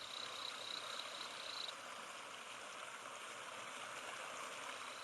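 A waterfall in a tropical forest gives off a constant, soft, far-off rushing roar. The wash stays unbroken throughout, with a thin high tone briefly above it at the start.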